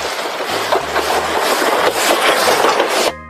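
A toy Thomas the Tank Engine train sound effect plays loudly, a dense rushing rumble with rhythmic clickety-clack pulses, ending abruptly.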